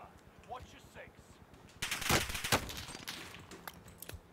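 Rapid bursts of automatic gunfire in a video game on the Fortune's Keep map, dense rattling volleys in the middle and scattered shots after, with a voice speaking faintly beforehand.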